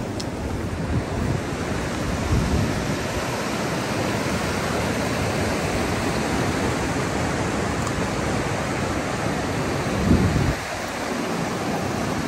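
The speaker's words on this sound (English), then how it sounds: "There's the Red River. It flows right down here." The Red River rushes where it joins the Rio Grande in the Rio Grande del Norte National Monument, a steady broad roar of moving water that fills the scene evenly, without talk.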